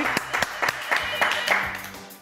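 An audience on a live French radio show applauds, scattered sharp claps rising and falling over a couple of seconds while a voice speaks over them.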